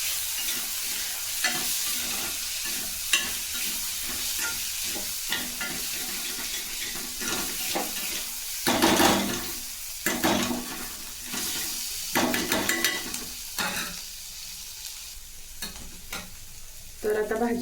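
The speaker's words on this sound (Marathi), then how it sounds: "याला आपण 2 मिनिट परतून घ्यायचं आहे तेलात" Sepu (dill) bhaji with matki dal is sautéed in hot oil, crackling and sizzling while a spoon stirs it in repeated scraping strokes, with louder bursts of sizzle now and then and no talking.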